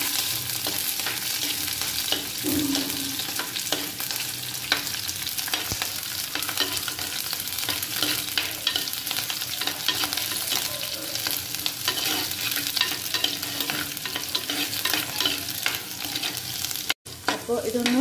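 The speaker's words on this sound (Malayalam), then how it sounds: "ഇതെല്ലാം ചേർത്ത് വെച്ചിട്ട് നമുക്കാണ് വഴച്ചെടുക്കുക കേട്ടോ" Ingredients sautéed in a clay pot for sardine curry, a loud continuous sizzle and crackle with steady stirring scrapes throughout, close and without speech.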